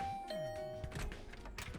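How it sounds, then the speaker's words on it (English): A doorbell rings beside a student's dorm room door in the video game The Hundred Line -Last Defense Academy-, giving a clear, bright electronic chime that rings out alone. "I rang the bell by the side of the door."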